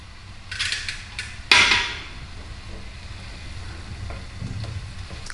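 A ladle clanks against a metal pot, followed by a short pour of starchy pasta water into a pot of pasta with broccoli. A few soft clinks and faint kitchen noise trail after it.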